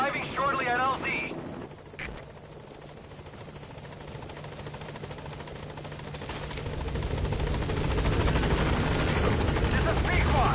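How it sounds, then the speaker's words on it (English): Helicopter in Metal Gear Solid V coming in to a landing zone, its rotor wash building from a steady wash to a louder roar over the last few seconds, with brief electronic tones and radio-style chatter near the start. "This is B-Quad. Arriving shortly at LZ."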